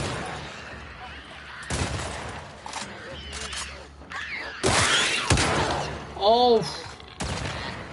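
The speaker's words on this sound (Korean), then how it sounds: "와 아니 왜 나만 쏘냐고 좀비를 안 쏘고" Gunfire in the game The Last of Us Part II: several sharp, loud bursts of shots come at irregular intervals, mixed with other game effects, while a man briefly exclaims between them.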